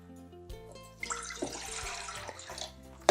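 Water pours into a medium pot of rinsed, still-wet quinoa, a close splashing gush that starts abruptly, runs for about a second and a half, then tapers off, with no voices.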